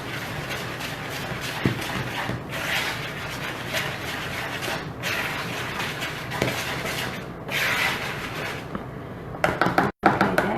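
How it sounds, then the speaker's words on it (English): A whisk beats pound cake batter in a bowl at close range, giving a steady rapid clatter and scraping that runs throughout, with occasional sharper knocks against the bowl. "Let me go ahead and whisk that up real quick."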